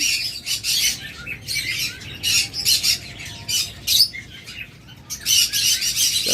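Several pet birds, such as cockatiels and budgerigars, squawk and chirp loudly in rapid, overlapping bursts, close by and nearly continuous, with no talking.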